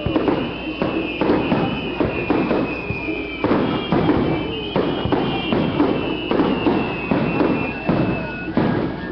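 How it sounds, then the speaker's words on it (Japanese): Festival fireworks at a summer night celebration bursting in a steady run of booming thuds and crackles, loud and near, with faint crowd murmur and background music underneath. "ボーンと花火でね"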